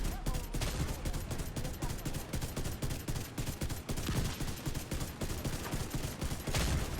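Dense, continuous gunfire from a Division 2 raid boss fight against the Iron Horse, rapid overlapping shots at steady loudness for the whole stretch with no clear speech on top.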